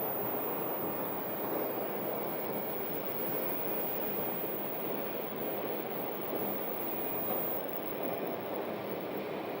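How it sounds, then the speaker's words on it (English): A United Boeing 737 MAX 8 in from Houston on the runway at Phoenix, a steady broadband jet roar holding constant and fairly distant, with no talking. "That's the United flight from Houston, 737 MAX 8."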